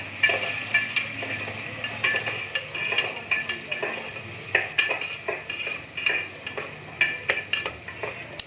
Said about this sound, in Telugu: అది కొంచెం అట్లా గోల్డెన్ బ్రౌన్ కలర్ వచ్చే వరకు అట్లా సాటే చేయాలి